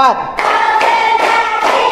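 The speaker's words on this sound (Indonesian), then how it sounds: "coba kita berlatih tepuk dulu ya" A rhythmic hand-clapping exercise in a primary school classroom: a group claps in unison in evenly spaced beats, loud and close, with children's voices chanting along.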